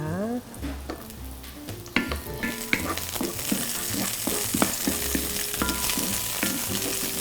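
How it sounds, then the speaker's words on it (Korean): Green onion and garlic stir-fry in oil in a hot pan. The sizzle flares up loudly partway through and carries on under repeated clatters and scrapes of a utensil against the pan. "팬을 좀 달구신 다음에 대파와 마늘 점인 거를 넣어서 볶겠습니다"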